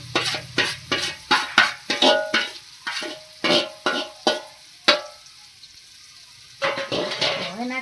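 Eggplant tipped into a hot pan for a Gujarati olo with red chilli, stirred with repeated scraping strokes over a steady close sizzle, then a short quiet pause before the stirring and frying resume.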